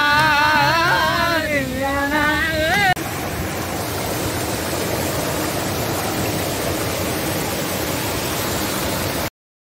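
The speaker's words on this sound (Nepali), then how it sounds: "यस्तो बाढी छ यहाँ यस्तो दामी सिन छ है" A flooded river at Chatra roars with a loud, unbroken wash of rushing water. A brief warbling melody sits over it at the start, and the roar then continues alone.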